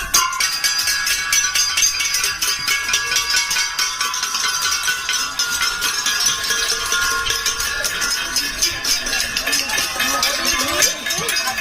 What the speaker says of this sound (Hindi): आपको घंटा पसंद है ना, मैं घंटा बजा रहे